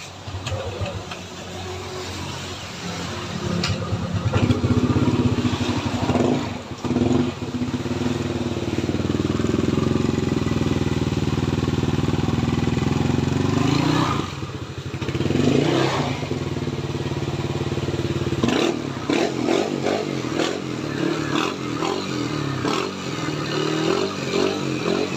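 A Yamaha Aerox V2 scooter bored to 210cc starts from cold, settling into a steady buzzing idle with mechanical clatter and a few throttle blips, loud and close throughout.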